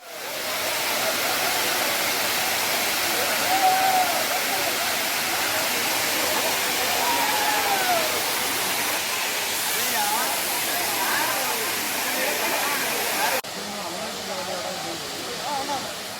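Courtallam main waterfall thunders in a dense, steady roar with tourists bathing beneath it, the broad rushing noise continuous and close, easing slightly near the end, with faint voices mixed into the spray.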